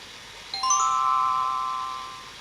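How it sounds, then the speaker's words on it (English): A page-turn bell chime on a Winnie the Pooh storybook cassette: a single clear, bright ding that rings out and slowly decays, alone without talk. "When it's time to turn the page, you'll hear the sound of the bell like this."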